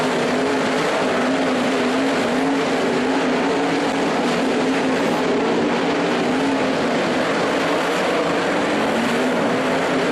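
Sprint cars racing at a World of Outlaws event at Skagit Speedway, a loud, continuous engine roar of several cars circling the dirt track, sustained without breaks.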